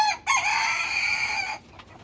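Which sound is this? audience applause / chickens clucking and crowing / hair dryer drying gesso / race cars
chickens clucking and crowing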